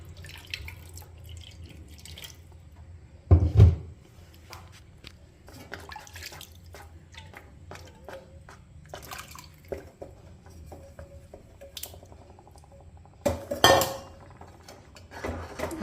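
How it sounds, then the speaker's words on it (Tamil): Water goes into a pan of keerai masiyal, a mashed greens dish, while it cooks: two short splashing bursts, a few quiet drips and light clinks of utensils in a quiet kitchen. "கொஞ்சம்னா இப்போ தண்ணி விட்டுக்கலாம் நம்ம."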